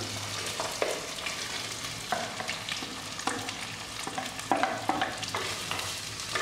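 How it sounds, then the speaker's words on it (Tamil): Garlic, ginger and onion sauté in a hot oiled pan for fish masala, a steady sizzle broken by repeated scraping stirs of a spoon, close and clear with no talking. "இப்போ இந்த வெள்ளைப்பூடு இஞ்சி போட போகிறேன் நல்லா வதக்கி விட்டுருங்க இந்த வெங்காயத்தையும் இப்போ போட்டுக்கலாம்"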